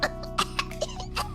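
A person imitates baby coughs for a Hololive baby-impression contest, a quick run of short, fake little coughs and throat-clearing sounds, close and alone.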